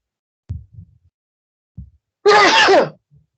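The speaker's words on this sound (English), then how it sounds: "why am I sneezing now?" A few soft low thumps, then a single sharp, loud sneeze burst lasting about half a second, followed by quiet.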